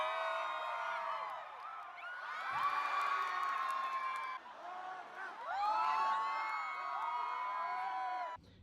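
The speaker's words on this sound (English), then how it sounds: "This guy was cleaning the stage before a concert when everyone started cheering for him." A big concert crowd cheers and whoops for a stage cleaner before the show, with loud, sustained shouting in two long surges separated by a brief dip.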